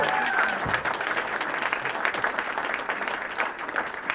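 An audience at a District 18 Toastmasters spring conference luncheon gives sustained, dense applause for Cynthia, a Distinguished Toastmaster, with steady clapping filling the room throughout and a few voices mixed in.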